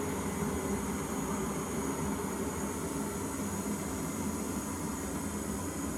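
A Jetboil Flash camping stove burner, tested after freezing, roars with a steady, dense hiss-and-rumble that holds unchanged and close throughout, with no voices.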